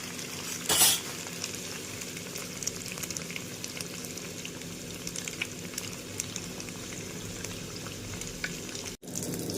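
Cumin seeds frying in hot oil after paneer has been lightly fried, a soft, steady sizzle with faint crackling, close, with a brief clatter near the start and a sharp click near the end.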